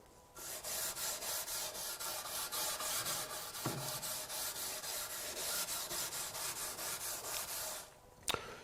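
Moulding is hand sanded with a Festool Vlies abrasive pad, a close, steady back-and-forth rubbing in rapid regular strokes that continues for several seconds, then stops with a brief tap.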